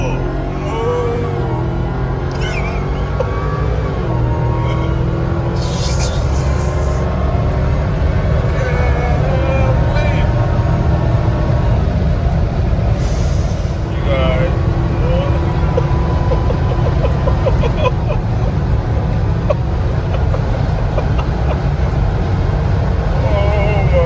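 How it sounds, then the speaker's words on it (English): Drivetrain whine of a Jeep Gladiator on 40-inch tires, a steady humming road drone with a faint rising whine throughout, while someone talks over it. "to hear that whine come out of the Gladiator"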